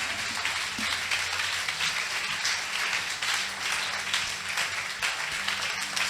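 A church congregation applauds steadily throughout, a dense, even wash of many hands clapping at close to moderate distance, with no other sounds rising above it.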